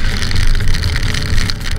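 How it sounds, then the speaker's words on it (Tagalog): Heavy rain hits a rider on a motorcycle trip through North Luzon, making a dense, steady roar of wind and water from start to finish with no voices. "baka hindi naman tumigil itong ulan na to"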